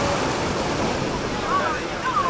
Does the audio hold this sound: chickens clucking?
no